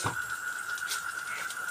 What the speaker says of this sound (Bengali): ব্যাঙ ডাকছে, নিশ্চয়ই শুনতেই পাচ্ছেন ব্যাঙের আওয়াজ